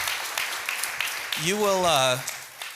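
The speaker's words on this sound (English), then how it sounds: "Would you all give Michael an appreciative applause?" A church congregation applauds Michael at a Sunday service, a dense patter of clapping running steadily throughout, with a rising, wavering vocal whoop or cheer riding over it partway through.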